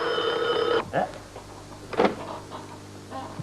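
A telephone rings in a short electronic burst at the start, then gives way to indoor rustles, a door-like thump and faint talk.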